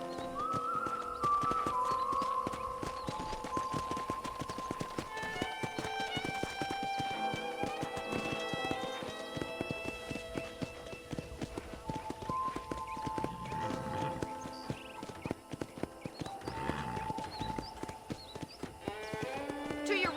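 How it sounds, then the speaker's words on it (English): Steady clip-clop of horse hooves at a walking rhythm in the video game Red Dead, moderately close, with a soft musical backdrop and occasional voices. "let's see if you can still ride a horse"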